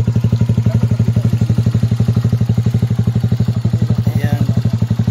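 Lifan 150 Blackhawk motorcycle converted to a scrambler/cafe racer with a bullet pipe, idling loud and close with an even, rapid thumping exhaust pulse throughout.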